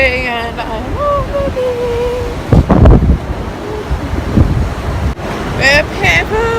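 Wind buffets the microphone over the wash of sea waves at the shore, with bursts of louder gusts and surf while a voice talks throughout.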